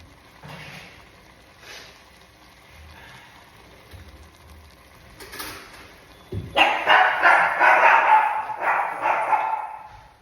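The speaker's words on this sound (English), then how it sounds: "Sorry for the dogs barking." Quiet background sounds give way to a burst of loud, repeated dog barking in the last few seconds, close and rapid.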